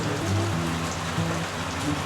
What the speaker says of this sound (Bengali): কি স্রোত নদী, তার উপর এই বৃষ্টি, এর স্বাদই আলাদা।